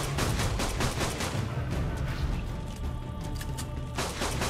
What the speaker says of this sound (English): Look at this little pistol doing some work.